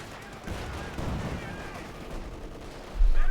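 Artillery shells land in the strategy game Company of Heroes 2 during a barrage, several rumbling blasts with a heavy impact near the end, under faint background battle noise.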